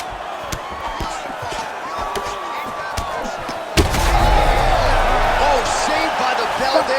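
An end-of-round horn sounds at the close of round 2 in a UFC 5 video game fight, arriving abruptly midway and lifting the loud arena crowd noise, with commentary voices running underneath throughout.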